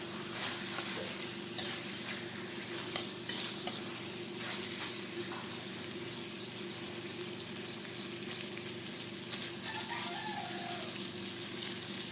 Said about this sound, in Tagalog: Lagyan na natin ito ng dinurog na paminta. Ayan, haluin lang natin.